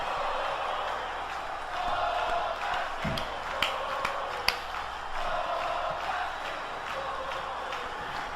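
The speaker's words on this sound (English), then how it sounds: "I'm just letting the crowd have their moment" Arena crowd noise from the WWE 2K20 wrestling video game, a steady roar of cheering with a few sharp peaks, continuous throughout and with no voice over it.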